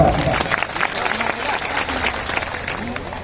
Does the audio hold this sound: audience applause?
yes